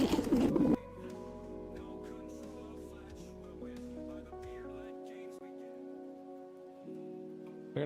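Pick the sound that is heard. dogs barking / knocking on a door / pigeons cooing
pigeons cooing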